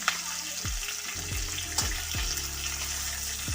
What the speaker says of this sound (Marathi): थोडंसं तेलामध्ये आपण याला परतून घ्यायचं आहे